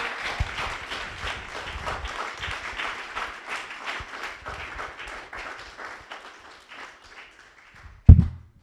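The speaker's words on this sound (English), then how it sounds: "Talented lady, amazing. Round of applause." An audience applauds after a performer at an anniversary evening, a full round of clapping that gradually thins and fades over about seven seconds before a single sharp knock at the end.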